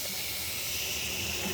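Meat and spices fry in a pan with a soft, steady sizzling hiss that runs evenly throughout at low volume, with no talk.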